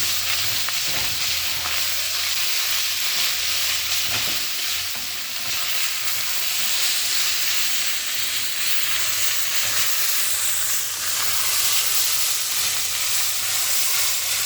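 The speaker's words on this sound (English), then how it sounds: "The onions and the carrots are inside here. A little bit more olive oil. We're going to start cooking." Onions and carrots sizzle and fry in olive oil in a pot for hamburger soup, a steady, loud, close hiss with some stirring and no talk.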